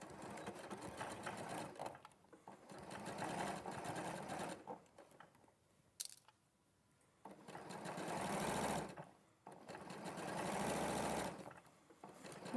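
A sewing machine stitches fabric seams on a raglan-sleeve garment in several bursts of steady whirring, each lasting a few seconds, separated by short pauses and a sharp click.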